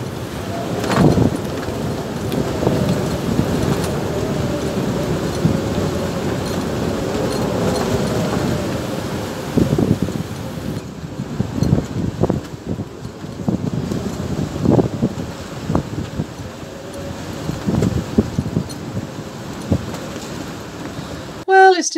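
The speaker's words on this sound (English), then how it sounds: "the winds are already starting to rise" Storm winds of force 4 to 7 gusting 8 blow hard around a sailboat off Ireland, a steady rushing roar with buffeting gusts and microphone wind noise that rise and fall throughout.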